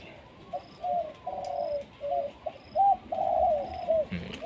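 A decoy bird, a dove, gives a series of soft, repeated coos in short phrases at moderate distance, with brief pauses between calls against a quiet outdoor background.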